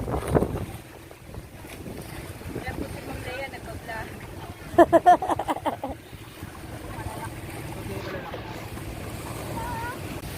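Steady engine rumble and wind buffeting of a boat moving across the water at Baloy Beach, with people talking and a burst of chatter midway.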